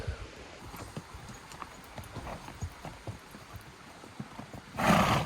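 A saddled horse walks on a mountain trail during an archery elk hunt, its hooves thudding in an uneven, moderately close rhythm, ending with a loud brushy rush.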